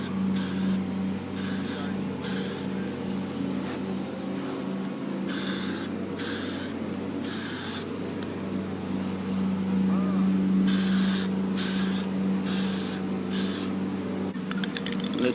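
An amp rack is spray painted with paint-and-primer in short aerosol bursts, the hissing sprays starting and stopping in an irregular rhythm over a low background hum.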